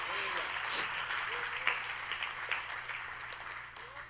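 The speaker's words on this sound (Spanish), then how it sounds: "cuánto le dan aplauso a Dios por esa verdad" A church congregation applauds during a sermon, a soft, steady wash of clapping that lasts about four seconds, with scattered voices calling out over it, fairly distant and low in level.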